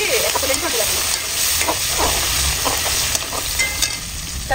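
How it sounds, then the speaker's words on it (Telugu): Onion and garlic fry on a low flame in a tempering of oil, cumin and fenugreek for gongura pickle, giving a continuous close sizzle with scattered stirring scrapes and clinks of a spoon in the pan. "ఇదిగోండి ఉల్లిపాయ కూడా వేసేసుకున్నా, వెల్లుల్లిపాయ కూడా వేసేసుకున్నా."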